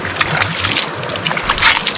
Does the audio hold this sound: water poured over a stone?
yes